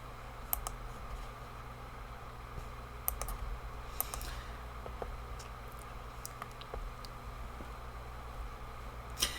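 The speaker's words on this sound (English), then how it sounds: "That was me typing all the shit I said to you." Quick keystrokes on a computer keyboard, heard as faint, scattered clicks over a steady background hiss, with no talking.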